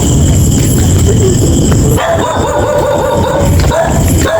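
A dog yips and whimpers in short bursts over loud, constant background noise in an abandoned subdivision, fairly close, with some faint voices mixed in.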